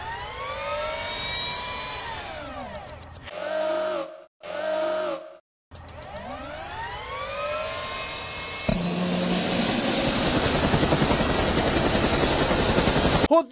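A person imitates a helicopter with the voice, making loud, continuous whirring and sweeping rotor-like sounds, broken by two short pulsing bursts before a harsher, noisier whirr at the end.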